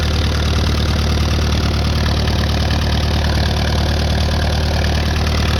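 A Case VAC tractor engine idles after a cold start, a loud, steady, unbroken low rumble with a faint knocking texture. It is close by and stays constant with no talk.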